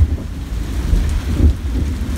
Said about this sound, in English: Oh my gosh, that rumble of thunder.